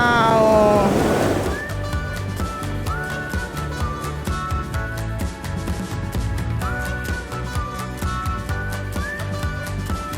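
Water sloshing and a boat engine running in a Norwegian fjord, with a helicopter doing transport flights nearby, a steady busy mix of motor drone and water noise that follows a short burst of excited voices.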